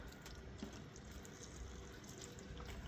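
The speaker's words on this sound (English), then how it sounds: "Get this tray filled up for the peppers." Water pours steadily into a seedling tray for peppers, a soft continuous rushing and splashing hiss at low volume that holds unchanged throughout.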